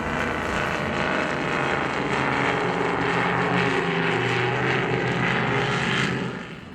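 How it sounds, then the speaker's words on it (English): A racing powerboat with Mercury Racing engines runs past, a loud, continuous roaring drone that holds steady, then fades slightly at the end. "a brand new Black Thunder 43 flat deck powered by Mercury Racing 565s"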